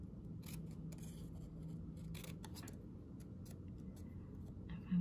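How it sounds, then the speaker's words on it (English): Scissors cutting out a paper square for a collage, a series of close, crisp snips in an uneven rhythm over quiet room tone. "what I can do is I can cut out a square"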